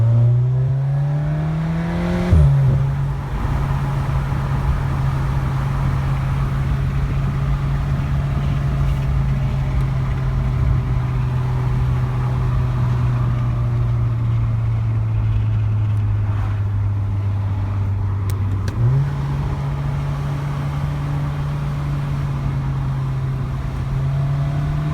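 A VW MK7 Golf R with downpipe, resonator delete and APR turbo muffler delete drones loudly up close through a long steady pull, with gear shifts near the start and late on.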